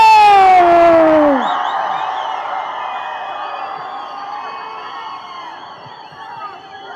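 A crowd at a film trailer launch cheers and whoops, opening with a loud rising shout that fades into sustained, softer crowd noise and scattered calls.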